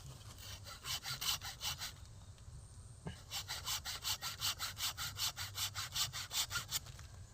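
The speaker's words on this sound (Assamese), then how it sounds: "এইজোপা মই কাটি কমপ্লিট কৰিলোঁ।" A hand saw cuts through the branches of a jujube tree in steady, rhythmic back-and-forth strokes, close and clear, with a brief pause partway through before the sawing resumes.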